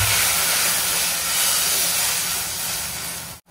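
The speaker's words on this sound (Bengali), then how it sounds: "ঝোলটা ফুটে গেছে" Fish curry gravy with tomato, turmeric and water comes to a boil, giving a continuous loud hissing, bubbling wash up close that cuts off abruptly near the end, with no voices.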